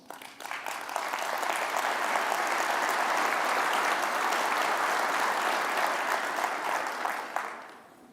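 Audience applause at a general session, swelling quickly into a broad, sustained roar of many hands clapping, holding steady for several seconds before tapering off abruptly.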